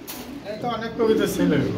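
Soft, throaty pigeon cooing repeats close by at a pigeon farm, mixed with people talking over it.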